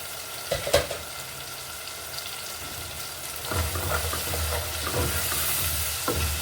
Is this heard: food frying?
yes